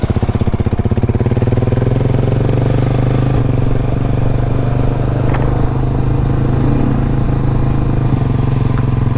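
A Cafe400 motorcycle fitted with a new open-pipe exhaust runs close by, its loud, steady engine rumble holding an even idle throughout with a faint clatter.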